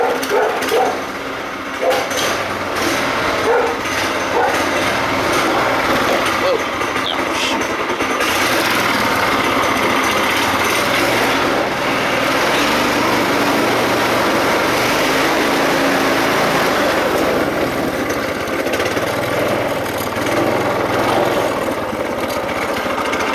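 A vehicle engine just started and idling to warm up, a steady broadband mechanical drone running loud and continuous throughout with no voices.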